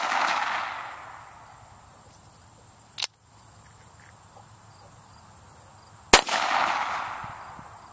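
Two sharp pistol shots fired at a target outdoors, about three seconds apart, each a loud close crack with a ringing tail, over a faint background of chirping insects.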